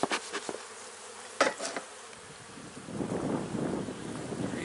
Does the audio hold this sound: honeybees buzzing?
yes